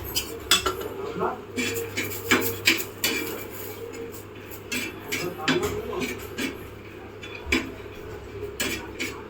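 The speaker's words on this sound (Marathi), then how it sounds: "आता खोबरं भाजून घेऊया" Grated coconut being dry-roasted in a pan, with repeated metallic scraping and clinking of a spatula against the pan at close range, irregular stirring strokes throughout and no talk.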